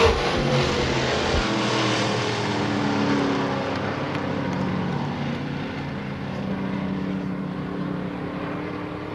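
A late model race car at Billings Motorsports Park roars past between turns 3 and 4, its loud, close engine drone sweeping down in pitch as it passes and then holding a steady rumble as it moves away.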